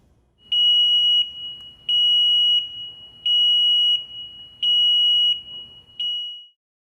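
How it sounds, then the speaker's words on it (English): A piercing high-pitched alarm from an avionics pitot probe temperature warning device sounds in five steady beeps, each lasting about a second, with a short final chirp, loud and alone. "bright flashing LEDs and a piercing alarm will alert anyone nearby that something is in need of their attention"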